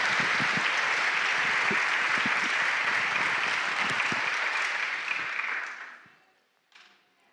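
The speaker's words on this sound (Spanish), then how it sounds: "Un aplauso para el Señor, para Él." A church congregation claps for the Lord, a dense, even burst of applause that holds steady, then tapers off and fades to near silence with a brief faint sound after.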